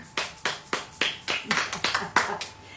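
A single person claps about a dozen times in a steady, fairly close rhythm to applaud Martine, the winner, during a live French-language broadcast.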